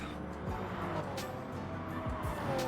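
A loud half-black, half-white Toyota Supra race car with orange accents roars steadily through a racing video game, its engine drone mixed with brief tire squeals and other cars passing.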